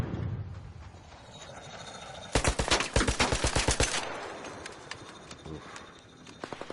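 Gunfire in the video game ARC Raiders: a rapid automatic burst of about a dozen sharp, loud shots in the middle, with scattered fainter pops afterward over quieter background game sound.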